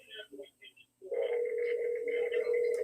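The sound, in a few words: telephone ringing on a call-in line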